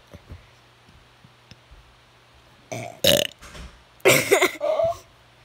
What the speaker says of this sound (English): Who can make the biggest burp?